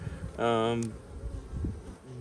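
A brief, close buzz of honey bees rising sharply for about half a second, then fading into low hive hum with faint voices nearby.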